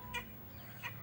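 A chicken being held and carried around gives two brief, faint clucks, quiet against a low background hum.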